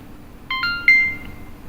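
An Insta360 X3 camera powering on gives a short startup chime of three or four clear electronic beeps, stepping up in pitch and ending on one sustained tone, close and distinct over a quiet room.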